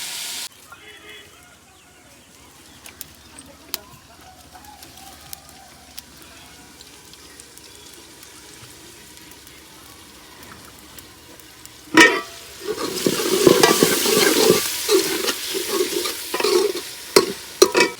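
Chopped tomatoes drop into a pan of village-style desi salan and begin frying, a sudden loud burst of sizzling and stirring that rises sharply partway through and continues steadily to the end, after a quieter stretch of low kitchen noise.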